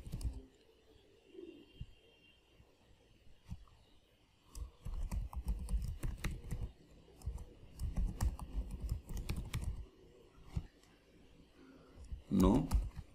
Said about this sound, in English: Type the same password again.